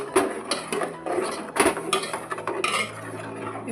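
A utensil scrapes and clatters against a metal cooking pot as coconut, tomato and water are stirred together for a sambar-style dish, with repeated close clinks and rattles over about four seconds, no voices.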